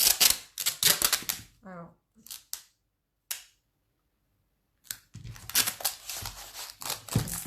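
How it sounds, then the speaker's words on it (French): Brown packing tape is stretched and torn in a few sharp bursts between pauses, with a person speaking before and after. "Je vais continuer avec mon scotch brun."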